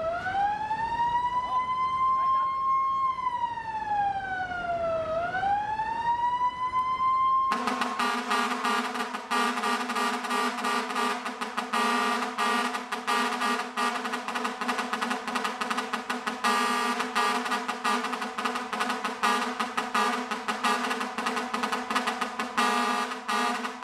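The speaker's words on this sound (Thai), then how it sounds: "จะบีบแตรให้รับรู้" Car horns sounding at a temple funeral in Thailand: a wailing, siren-like rising and falling tone gives way to a loud, sustained, multi-tone horn blare that carries on steadily, with no talking.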